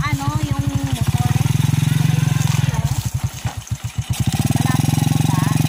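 A motorcycle rides over a rough, difficult road toward a waterfall in Barangay San Rafael, Busuanga, Palawan. The engine revs unevenly and chugs as it bumps along, close and loud under people talking.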